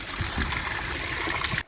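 Cold tap water in a Himalayan hill town at Rudraprayag flows steadily and continuously, a close, even trickling splash throughout with no voices.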